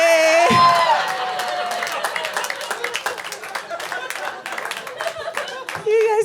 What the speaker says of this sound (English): You guys clapped for baby jizz?